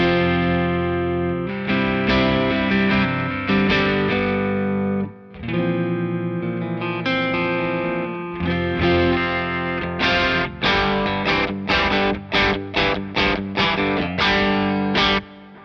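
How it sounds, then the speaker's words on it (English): Electric guitar plugged straight into a Lightspeed Organic Overdrive pedal and Kraken Gain 1 amp, with Boss RV reverb and DD500 delay in the loop, playing sustained chords that give way to a run of short, choppy, loud strums. "So that's the sound of the guitar straight in"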